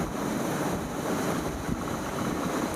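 Wind buffeting the microphone and waves washing along the hull, heard from the deck of a cruise ship near Valaam island in fog, a steady close rushing roar with no voices.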